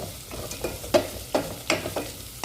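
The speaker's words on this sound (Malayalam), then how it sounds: "സവാളയെ ഉള്ളി കൂടെ അരിഞ്ഞ് വെച്ചതാണ് അത് ഒന്നിച്ചുകൊണ്ട് ചേർക്കുകയാണ് അപ്പോൾ അത് ഒന്ന് ഇളക്കി കൊടുക്കുക" Chopped onions being stirred while they fry for a chickpea curry, a soft continuous sizzle broken by several sharp spoon scrapes against the pan at a steady pace, close and fairly loud.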